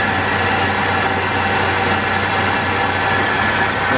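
A 1929 Chrysler 360 engine fitted with headers and a 625 AFB carburetor holds a steady, loud run near 1700 RPM, a dense even drone with a low rumble underneath and no change in pitch.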